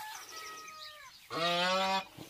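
Swans on a farm give a loud, harmonic honking call that rings out alone near the end, after softer bird calls and farmyard background.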